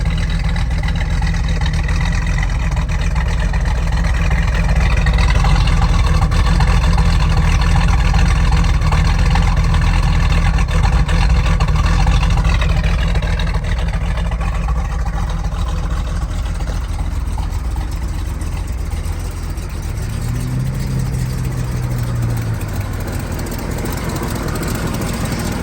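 A fully restored 1969 Ford Mustang Mach 1 with the R-code 428 Cobra Jet V8, 4-speed and factory exhaust idles with a steady, loud, deep rumble throughout, dipping briefly in pitch near the end.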